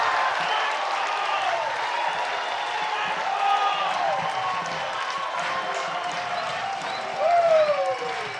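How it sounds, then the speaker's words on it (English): A crowd at a baseball game, an IBL Finals contest in London, cheers and applauds steadily throughout, with whistles and shouts rising near the end, under a commentator's talk. "And listen to this crowd here in London."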